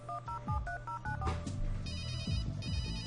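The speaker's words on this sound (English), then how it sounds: "I'll call Willie and try to get him to enter the analysis laboratory." A phone number being dialed in the point-and-click game Runaway: A Road Adventure, a quick run of distinct touch-tone beeps followed by steady ringing tones over a low game music bed, with no talk.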